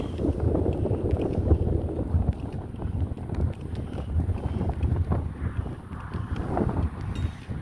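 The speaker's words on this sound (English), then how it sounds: "Hopefully the wind's not any worse than what it was." Wind buffets the microphone outdoors on a road walk with a rucksack, a continuous low gusting roar that rises and falls in loud pulses.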